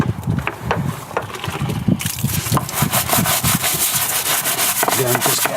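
A brush scrubs dirt and grime out of a car wheel arch, with steady close rubbing strokes in a quick repeating rhythm, loud and continuous with no voices.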